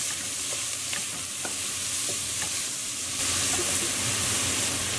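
Chopped onions sauté in three tablespoons of vegetable oil in a pot, giving a steady close sizzle and hiss with a few soft stirring clicks, growing slightly louder toward the end.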